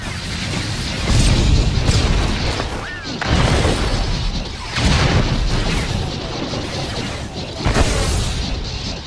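Starship weapons firing in SWTOR space combat over Saleucami, heard as repeated loud booming blasts and crashes in bursts across the clip, with a brief rising whine partway through.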